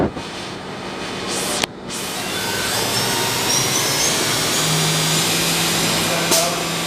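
A 2023 Haas VF-5SS CNC machining centre's spindle spins at 5,000 RPM in a shop, giving a steady, fairly loud broadband whir with a faint tonal hum, after a brief sharp click near the start.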